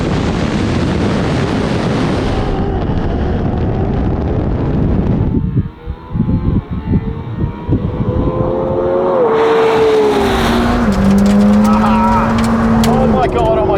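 A McLaren Senna and a Ferrari 812 Competizione race side by side, heard from inside one car as loud, roaring engine noise with wind buffeting, then rising gear-by-gear whines and climbing revs; speech is present.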